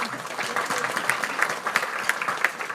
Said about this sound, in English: Folks, give them a big round of applause.